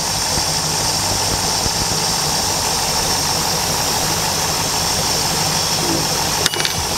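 A Ford ski boat engine idles steadily and loudly with a constant rumble and faint high squeal, running evenly throughout with a brief clatter near the end.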